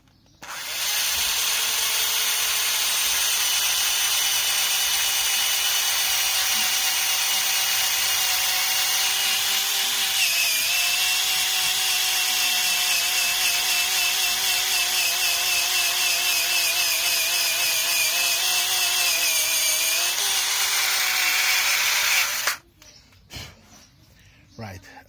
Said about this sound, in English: and you just drill through.